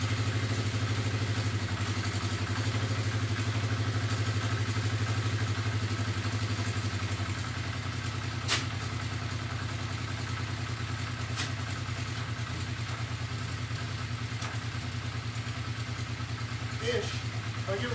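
A 1980 Honda CB650 Custom motorcycle engine idling steadily after carburetor air-fuel mixture adjustment, a continuous low, even throb close by with a few faint clicks.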